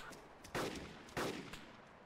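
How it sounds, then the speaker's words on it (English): Gunfire in the video game DayZ as zombies are shot: two sharp, booming shots about half a second apart, followed by a fainter third report, heard alone without talk. "Shooting another zombie."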